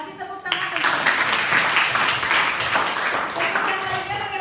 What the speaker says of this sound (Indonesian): Nah, kasih tepuk tangan.